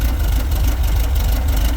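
An air-cooled VW 1776 cc engine with dual Dellorto carburetors idles steadily, a loud, continuous low rumble with an even, throbbing pulse and no voices over it.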